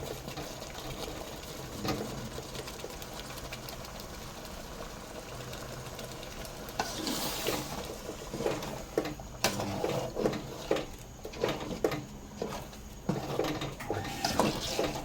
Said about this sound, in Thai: เดือดปุดๆเลยครับเดือดบุดบุดเลย